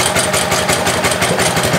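A Ryobi pressure washer's small engine runs rough and uneven, a loud, steady close-up drone with a pulsing, slightly irregular beat and no voices over it.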